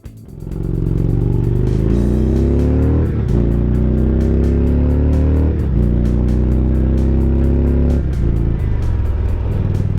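A 2017 Indian Roadmaster motorcycle fitted with Stage 1 exhaust pipes accelerates hard through several gears, each pull a rising engine drone broken by a brief shift, loud and close with no talk.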